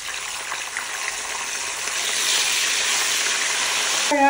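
Thawed blocks of frozen garlic and ginger paste fry in a pan, giving a steady broadband sizzle that swells slightly louder midway, close and continuous with no talk.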